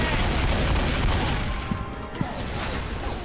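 Constant dense gunfire from Left 4 Dead 2 players, a loud unbroken barrage with a few sharper cracks standing out from the roar.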